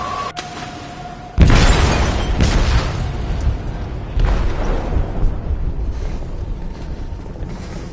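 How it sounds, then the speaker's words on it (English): A large explosion bursts inside a ship's hold in the video game Detroit: Become Human, a sudden loud boom with shattering debris that then rolls on in rumbling, crackling aftershocks and secondary bursts. "They detonated an explosive in the hold."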